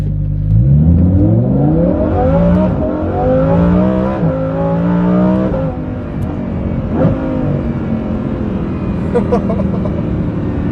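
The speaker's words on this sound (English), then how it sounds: "What you just heard is the Kline-Innovation Inconel exhaust system for the Lamborghini Huracan" A Lamborghini Huracan Performante with a Kline-Innovation Inconel valvetronic exhaust revs hard and climbs through the gears with a loud, raspy exhaust, then settles into a lower drone.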